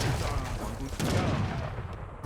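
Loud booming cannon blasts and rapid gunfire crackle in a busy battle in Age of Empires III, with dense rumbling explosions layered over one another.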